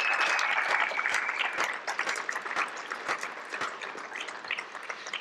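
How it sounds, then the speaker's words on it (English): An audience at a student leadership awards ceremony claps steadily, a dense round of applause that thins slightly as it goes on. "I want to make sure we give Sam a tremendous round of applause for getting this all together today"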